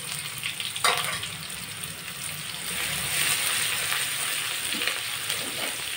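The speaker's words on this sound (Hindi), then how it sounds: "और इनको थोड़ा सा भून लेंगे।" Grated ginger and two green chillies frying in a pan for a macaroni pasta recipe, a steady close sizzle with a brief stir clatter near the start, no talk.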